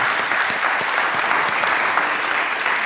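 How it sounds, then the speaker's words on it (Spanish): Steady applause from a church congregation during a worship service, dense and continuous at moderate loudness for a few seconds, with faint voices mixed underneath. "Denle un aplauso al Señor"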